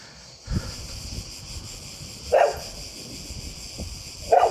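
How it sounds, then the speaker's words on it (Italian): A dog barks furiously outdoors at a bouldering crag in Val di Susa, with three sharp, loud barks spaced a couple of seconds apart over faint wind and ambient noise. "il mio cane è furibondo"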